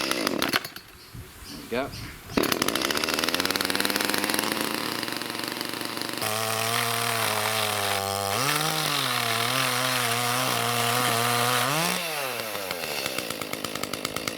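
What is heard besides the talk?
petrol chainsaw running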